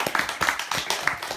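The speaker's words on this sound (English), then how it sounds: "So give her a round of applause." An audience claps briefly, a short burst of scattered handclaps heard up close over a little more than a second.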